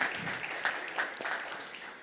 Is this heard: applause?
yes